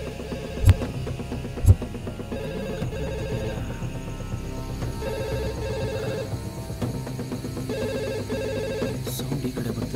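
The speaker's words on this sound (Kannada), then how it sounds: "ಇಲ್ಲೇ ಎಲ್ಲೋ ರಿಂಗ್ ಆಗ್ತಿದೆ" A mobile phone rings somewhere nearby in a horror film scene, a repeating electronic ringtone pattern sounding steadily over a low hum, with two sharp thuds early on.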